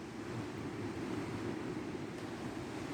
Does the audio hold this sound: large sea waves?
yes